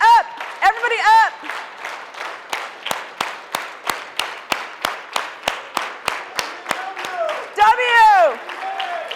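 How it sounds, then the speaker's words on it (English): A conference crowd claps in a steady rhythmic beat for a company cheer, even evenly spaced claps filling the room, with loud voices calling out at the start and again near the end. "Everybody start clapping."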